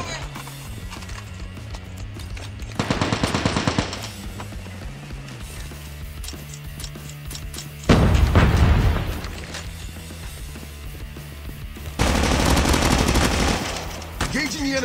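Video game gunfire in a Call of Duty Mobile Battle Royale match comes in three loud bursts spaced several seconds apart, over continuous game ambience and hoofbeat-like effects.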